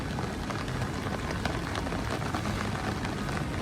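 Rain falls steadily at Epcot, a dense even hiss of drops hitting the ground and nearby surfaces, close and continuous with no voices over it.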